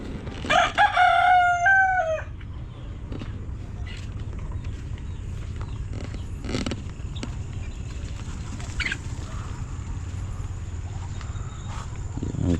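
Caged roosters crow loudly near the start, a drawn-out cock-a-doodle-doo with rising and falling notes, then scattered clucks and rustling continue against steady low background noise on a farm.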